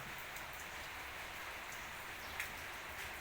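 Steady rain falls throughout with a dense, even hiss of drops on surfaces, one slightly sharper drop standing out near the end; no voices.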